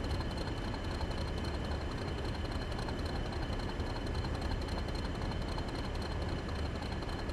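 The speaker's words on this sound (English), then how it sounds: "You could sit, just get mesmerised by the engine sound," Class 40 diesel locomotive engine in the video game Train Sim World 3, a steady dense drone with a low throb, constant and moderately loud without any talk.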